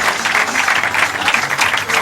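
Sustained applause from the crowd at the 1996 Ektelon World Championships racquetball men's final, thick continuous clapping with a commentator's voice faintly underneath.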